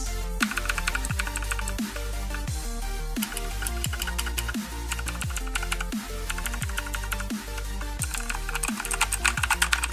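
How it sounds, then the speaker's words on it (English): Steady, fast typing on a Redragon Kumara K552 mechanical keyboard, with crisp clacking keystrokes and heavier bottom-out thocks continuing for the whole stretch. No talking, recorded close. "this is a little sound test for you guys"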